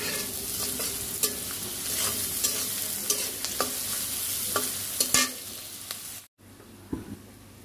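Onions frying with ginger garlic paste for a beef liver dish keep up a steady sizzle, while a spoon scrapes and taps against the pan in scattered strokes before a brief cut to quieter frying.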